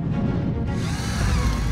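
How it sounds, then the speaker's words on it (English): A drill bores steadily through ice with a continuous grinding whir and a gritty, scraping texture, close and loud, shifting slightly in tone partway through. "We simply drill through the ice"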